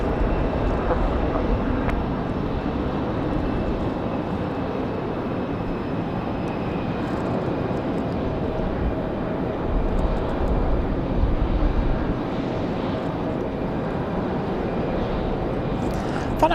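A steady, loud roar of a United airliner's jet engines taxiing at Raleigh-Durham airport on a windy day, continuous with slight swells and no clear talk.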